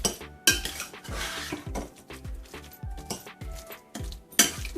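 Masoor pulao ingredients of lentils, ground meat and rice being mixed in a pot with a spoon, giving repeated close metallic clinks and scrapes in an uneven stirring rhythm.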